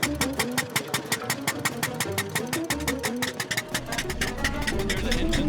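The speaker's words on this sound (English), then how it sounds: "Here's the engine" A 140-year-old car's engine runs with a fast, even, loud chugging beat, each firing pulse clearly separated, steady and close by with no talk.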